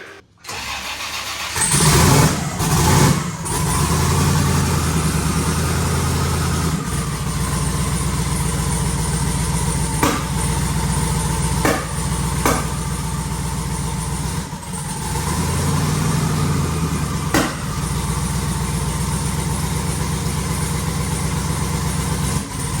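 A twin-turbo Camaro engine with 2000cc injectors and two swapped plug wires cranks and catches, then settles into a steady, rumbling idle with occasional sharp pops and brief revs throughout.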